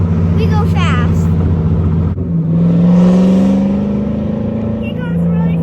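A V8 Deathkart Solstice drives fast on a rainy road, its engine droning loud and steady with a rising revving note midway, while people talk over it throughout.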